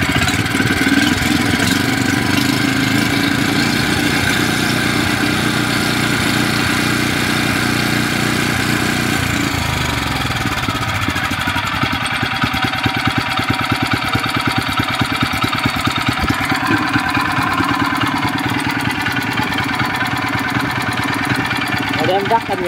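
A white-tanked Mitsubishi 6 hp small engine runs steadily close by with a loud, continuous mechanical chugging, its tone shifting partway through as someone talks over it.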